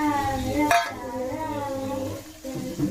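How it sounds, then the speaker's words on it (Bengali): A vegetable curry simmers and sizzles in a pot in a rural Sundarbans kitchen, a steady close bubbling hiss with a brief metallic clink of a utensil near the start. "তরকারিটা ফুটছে"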